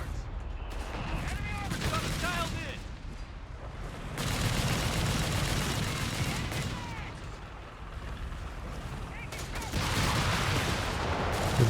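Artillery and gunfire rumble in the real-time strategy game Company of Heroes 3, a dense ongoing battle of booms and rattling shots heard under a commentator talking.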